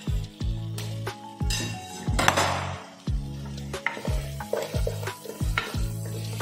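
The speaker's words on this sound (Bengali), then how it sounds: "মশলা সুন্দরভাবে ভাজা হয়ে গেছে বন্ধুরা" Spices fry in a pan for a village-style katla fish curry, a steady sizzle under repeated scraping and clinking strokes of a metal spoon stirring, close and fairly loud, with no one talking.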